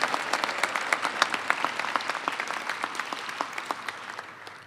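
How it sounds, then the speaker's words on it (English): An audience applauds at a college commencement for the College for Creative Studies, steady mid-distance clapping from a large crowd that slowly fades over a few seconds. "I think we need to give you a big round of applause for this show"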